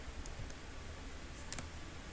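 A computer mouse click and a control-key press on a keyboard during a drawing-program demonstration, heard as a few faint, sharp clicks spread over quiet room noise, with a brief double click near the end.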